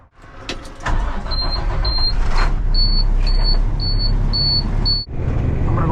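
A dump truck's engine runs loud and close, a steady diesel drone with a repeating high beeping chirp over it, like a reversing or warning alarm, then a brief dip as it shifts.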